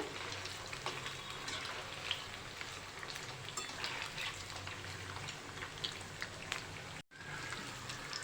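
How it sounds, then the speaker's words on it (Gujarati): Maggi noodle balls frying in oil in a pan while being gently stirred, a soft continuous crackle and bubbling sizzle, fairly quiet and steady, with a brief dropout near the end. "આવી રીતે હલાવી લઈશું હળવાથી હલાવવાનું છે"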